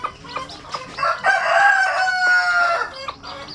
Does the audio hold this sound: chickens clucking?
yes